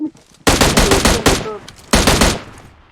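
Automatic gunfire in PUBG Mobile, two loud close bursts of rapid shots, the first about a second and a half long, then a shorter second burst after a brief gap.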